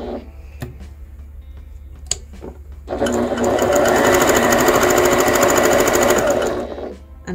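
A Janome HD9 sewing machine runs steadily at its lowest speed for a few seconds, a near, even mechanical whir starting after some scattered clicks and fading as it stops.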